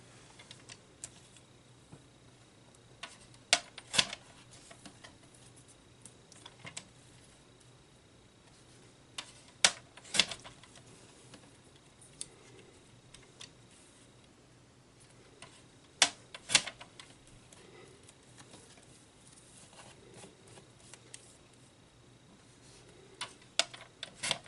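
Cardstock sliced repeatedly on a paper trimmer for a cardmaking kit, heard as sharp isolated clicks and ticks every few seconds over a quiet room, with no voices.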